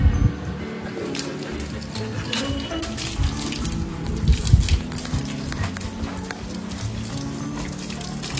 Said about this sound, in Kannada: ನೀರು ಹಾಕಬೇಕು